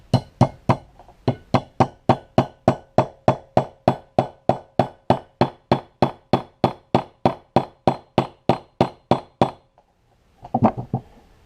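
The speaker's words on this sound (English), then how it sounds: "I'm using the nylon section of the hammer to tap it in place" Rapid, evenly spaced hard taps of the nylon face of a hammer tapping a pistol upper assembly part into place, about three per second, close and sharp, followed by a brief pause and a few clattering knocks.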